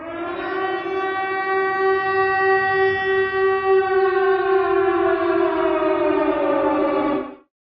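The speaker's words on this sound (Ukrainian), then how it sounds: "як раптом урок перериває повітряна тривога" Civil defense air raid siren sounding during a school lesson, a steady loud wailing tone with stacked harmonics that holds for about seven seconds, drifting slightly lower in pitch before cutting off abruptly; no voices.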